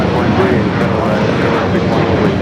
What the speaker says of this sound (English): Will be our next heavy takeoff here on the south side